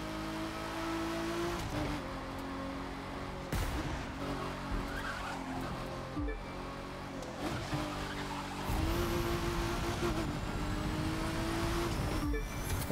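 Aston Martin racing in The Crew 2 during a two-lap race, engine droning steadily with gear-shift dips and rising pitch sweeps, tires faintly squealing through corners, loud and continuous throughout.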